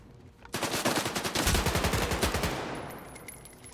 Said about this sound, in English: So the AK-74U is really good, except it has a lot of recoil.